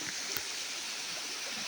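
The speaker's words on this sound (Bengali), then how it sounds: "দেখুন ঝর্ণার পানি গড়িয়ে যাচ্ছে যে জায়গা দিয়ে," Stream water from a waterfall runs and gurgles over rocks after heavy rain in a hilly area, a soft, steady rushing wash heard at some distance with no voices.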